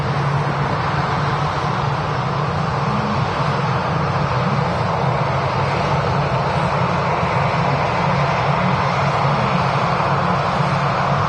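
An easyJet airliner at Manchester Airport gives a steady, continuous engine drone at moderate distance, even in level throughout with no voices.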